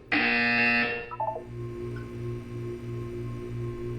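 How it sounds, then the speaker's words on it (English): A loud harsh buzzer blares for about a second in Portal 2, followed by short beeps and a low repeating pulsing tone. "You will hear a buzzer. When you hear the buzzer, look up at the ceiling."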